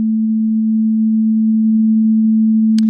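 A synth test tone panned to the left speaker holds as one steady, pure low hum for about three seconds, ending with a faint brief click.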